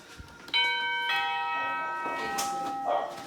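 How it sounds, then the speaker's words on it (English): A doorbell chimes with sustained, ringing bell tones, two struck notes that hang and decay, close and clear, with faint voices around it. "So the sound of the doorbell."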